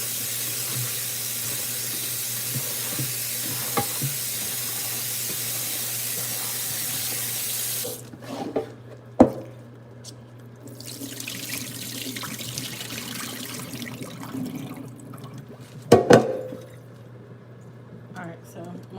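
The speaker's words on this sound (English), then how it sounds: "I'm just gonna rinse off my cabbage here" Cabbage is rinsed under a running kitchen tap, a steady close rush of water for several seconds, then stopping into quieter drips, splashes and handling sounds, with a voice talking in the background.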